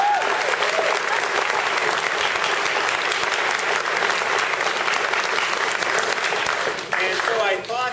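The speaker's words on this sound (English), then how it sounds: "You give them a round of applause." A theater audience claps loudly and steadily at a high school drama production, a dense sustained ovation that tails off near the end as someone starts to talk over it.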